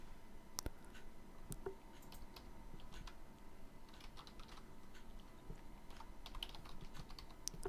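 Keys are typed on a computer keyboard while entering a sudo command during an Ubuntu virtual machine setup in VMware Workstation. Sparse, close clicks and taps sound over a steady low background hum.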